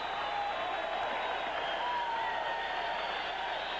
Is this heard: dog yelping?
no